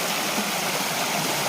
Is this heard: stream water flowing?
yes